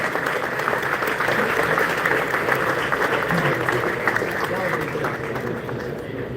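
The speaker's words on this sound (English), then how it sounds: "Big applause for these bikes." An audience at the EICMA 2025 Ducati presentation applauds new motorcycles, including the Street Fighter V2 in yellow, with continuous dense clapping and a presenter's voice carrying over it.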